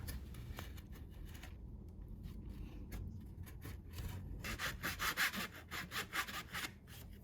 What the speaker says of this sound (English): then I'm going to use my larger hand saw to cut the rest of it.